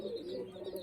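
A pigeon coos softly and close by in a short, low, rolling burst, with no talk over it.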